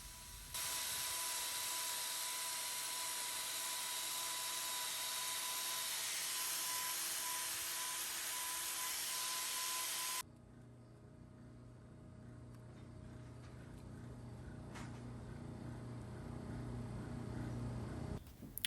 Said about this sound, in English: I'm going to get my grinder out to thin that down.